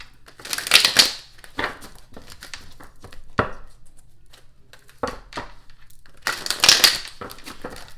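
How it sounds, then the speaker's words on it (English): A deck of tarot cards is shuffled in bursts of crisp riffling and slapping, close to the microphone, with short pauses between shuffles. "Hold on, let me shuffle one more time."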